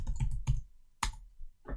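Keystrokes on a computer keyboard while entering a command-line instruction to start the Node.js shell, a few quick clustered clicks followed by a sharper key press and a final softer tap, close and clear with no talking.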